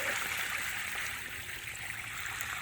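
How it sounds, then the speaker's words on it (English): Dirty water from soaking harvested loofah sponges is poured out, a steady rushing and splashing stream that runs continuously at moderate volume. "I'm going to dump out all this water."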